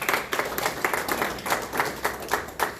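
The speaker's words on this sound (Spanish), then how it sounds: "Denle un aplauso fuerte a Dios." A church congregation applauds at a service, a steady patter of many hands clapping with a rhythmic pulse, fairly close and without speech.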